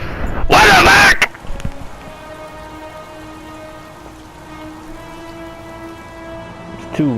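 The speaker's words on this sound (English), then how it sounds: "It's too rainy outside, bro." Heavy rain falling outside, a steady hiss of drops on surfaces that runs the whole time, briefly covered by a loud burst of noise near the start, with a thin background hum.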